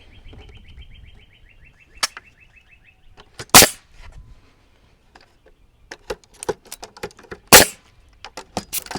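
Several sharp, loud nail gun bangs fire into wood framing for a small cabin at uneven intervals, mixed with softer tool clicks and light birdsong in the background.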